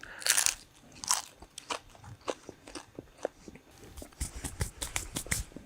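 Crunchy food, a thin layer of ham, is bitten and chewed close up, giving a run of sharp crackling crunches in an uneven rhythm with no talk.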